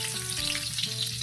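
Garlic and onion frying in hot oil for sopas make a steady, dense sizzle that is close and continuous throughout, with no talking.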